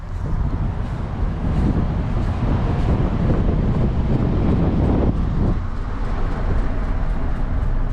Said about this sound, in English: There's like this like sound happening when the tire's going around.